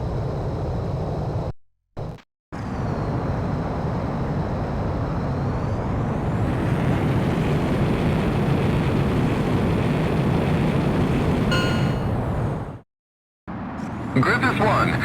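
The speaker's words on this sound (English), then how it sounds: "you are cleared for takeoff" An F-18E Super Hornet jet takes off in the video game Ace Combat X, a loud, steady roar lasting about ten seconds, broken by brief cutouts at the start and end, with a voice speaking over it.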